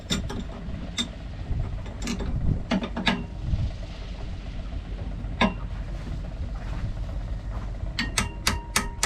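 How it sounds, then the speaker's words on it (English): A ratchet works on the big nut holding a boat's steering wheel onto its tapered shaft, giving sharp metallic clicks in irregular bursts over a low mechanical background, with a quick run of clicks at the end. "Then we'll need to remove the big nut that holds the steering wheel on to the tapered shaft."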